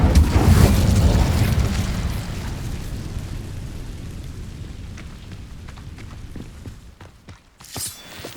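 The Incendio fire spell is cast in the game Hogwarts Legacy: a loud whooshing, rumbling burst of flame that slowly fades over several seconds, followed by scattered crackles and a short flare near the end.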